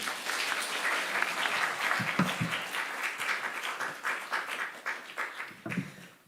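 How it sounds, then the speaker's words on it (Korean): A church congregation applauds steadily during a worship service, a dense wash of many hands clapping at once that fades slightly toward the end. "다시 한번 큰 박수 부탁드립니다"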